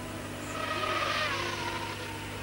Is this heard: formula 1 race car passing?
yes